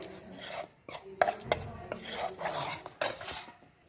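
Grated potato is worked together with a spoonful of corn starch in a metal bowl, a spoon scraping and clinking against the sides in irregular bursts of clatter and rasping strokes, close by and without talk.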